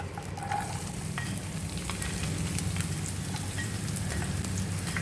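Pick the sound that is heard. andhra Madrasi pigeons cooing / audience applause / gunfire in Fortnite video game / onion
onion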